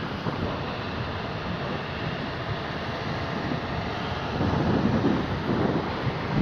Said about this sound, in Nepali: हावा चलिरहेछ सररररर